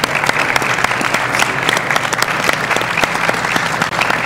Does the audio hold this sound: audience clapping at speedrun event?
yes